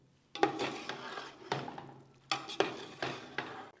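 A spoon scrapes and knocks in a cooking pot as chicken is stirred into masala for chicken curry, giving a series of close, uneven clanks and thick scraping strokes, with no talk.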